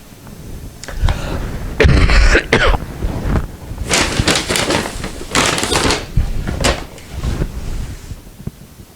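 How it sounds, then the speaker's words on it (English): A person in a kitchen has a coughing fit, with harsh, irregular coughs and throat clearing, loud and close, mixed with some rustling. "I had a coughing fit there."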